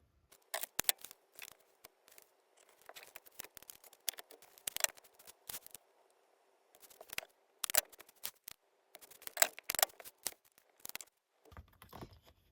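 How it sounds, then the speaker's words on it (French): Masking tape is pulled and pressed along the edges of a sticker sheet, with close, irregular bursts of sticky ripping and crinkling separated by short pauses. "je vais utiliser du masking tape et le mettre sur tous les bords"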